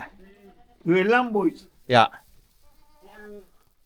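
Goats bleating on a farm in Canada in winter: two loud, harmonic bleats close together near the mic, then a fainter third call, with quiet background between.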